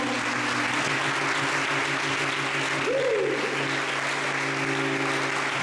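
Church congregation applauding the Lord, a sustained dense wall of clapping from a large crowd, steady and loud, with a sustained tone and a brief rising vocal sound partway through.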